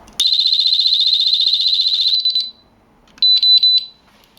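M10 central unit anti-theft security alarm sounding a loud, rapid high-pitched pulsing beep for about two seconds, then after a pause a few shorter sharp chirps, close and alone.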